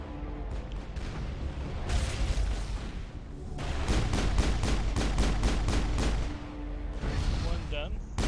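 Rapid bursts of anti-aircraft gunfire in the Mass Effect 2 video game, loud repeated shots in clusters with booming impacts over a dense game soundscape, with brief voice-like sounds mixed in.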